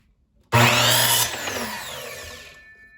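A power saw slices through an 8.5 inch piece of pallet wood, starting abruptly with a loud, close whine that holds about a second, then tapers off gradually as the cut finishes and the blade spins down.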